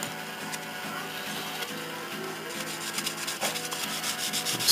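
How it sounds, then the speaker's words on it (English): Sandpaper of 1000 grit rubs across a plastic part of an Aoshima 1:24 Knight Rider K.I.T.T. model kit in a steady, fine, scratchy stroking, close and moderately quiet over soft background music. "Let's sand away the lint."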